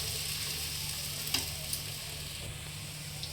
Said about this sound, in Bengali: তবে ভেজে নিতে হবে লো ফ্লেমে।